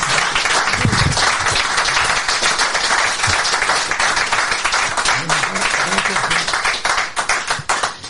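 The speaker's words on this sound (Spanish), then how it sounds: "Yo creo que se merecen un aplauso estos dos señores." A podcast audience applauds its two guests in a steady, dense burst of clapping that lasts throughout and thins toward the end, with faint voices underneath.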